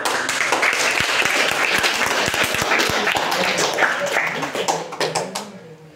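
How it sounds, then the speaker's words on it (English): Audience applause at a school debate competition, dense clapping filling most of the stretch with a few sharper individual claps standing out, then thinning and fading out near the end; some voices mingle underneath. "give one round of applause to"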